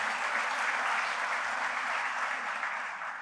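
Steady, dense applause from a large crowd, sustained at an even level throughout with no voices standing out.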